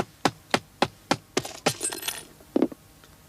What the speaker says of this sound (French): je recouvre votre montre d'un mouchoir, voilà, et je donne quelques coups de marteau